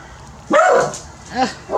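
A dog barks sharply a few times at close range, with short pauses between barks and some faint background noise.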